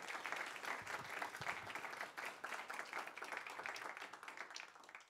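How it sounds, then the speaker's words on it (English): Audience applause following a talk at an event on savings banks, credit unions and poverty: continuous, even clapping from a seated crowd, heard faint and distant throughout the few seconds. "Please give a round of applause."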